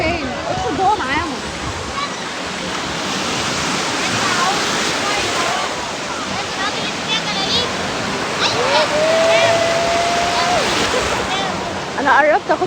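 Sea waves washing steadily at Ras El Bar beach, a loud continuous broadband rush of surf with people talking nearby throughout.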